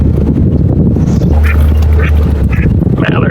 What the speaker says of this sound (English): Mallards.